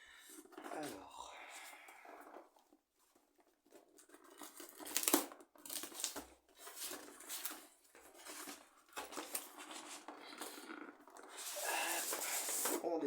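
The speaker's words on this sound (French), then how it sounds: "on va faire le déballage de cette figurine" Plastic and cardboard packaging crinkles and rustles in close, irregular bursts while a Sentinel Prime figure is unboxed, with quiet handling noises between and louder crackling toward the end.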